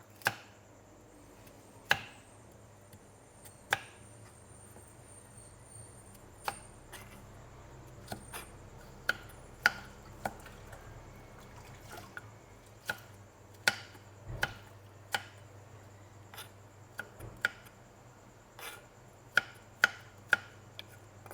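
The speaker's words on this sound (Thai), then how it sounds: "จากนั้นเราก็จะมาเตรียมหั่นผักค่ะ แครอทค่ะ" Sharp knife chops through carrot on a cutting board, irregular and spread out, some in quick pairs, over a quiet low room hum.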